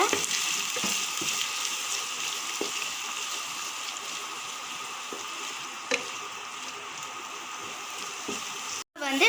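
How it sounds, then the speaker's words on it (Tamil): Steady, dense sizzling of onions and chili frying in a hot pan, continuous and close, with a few faint clinks of a utensil stirring. "இது நல்லா வதக்கி விடுங்க."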